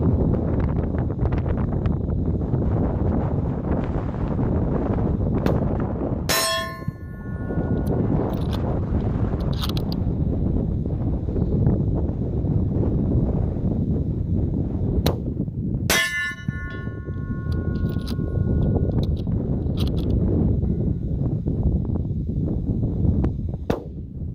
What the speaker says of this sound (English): about an 8 mile an hour wind